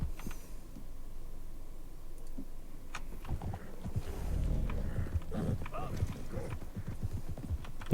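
Horse hooves clip-clop along in Red Dead Redemption II, a steady run of hollow knocks under game ambience and low background murmur.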